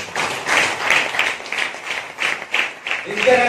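A church congregation at a Sunday service claps together in praise, with broad rhythmic bursts of hand clapping at about two per second, fairly loud and close, with a faint tonal sound near the end.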